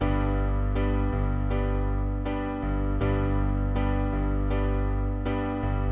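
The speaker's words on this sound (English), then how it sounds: "Easy 4/4 sounds like this in the background." An easy 4/4 backing rhythm plays steadily, keyboard chords over a low bass with regular pulses and chord changes every bar or so, loud and continuous with no talking.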